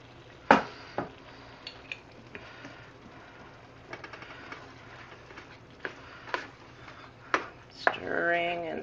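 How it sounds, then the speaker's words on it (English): Spoon scraping and knocking around a pot of brown rice seafood risotto, with scattered clinks and taps spread irregularly over several seconds, ending in a brief busier rattle, close up with no talk. "Stirring and stirring. Lots of stirring."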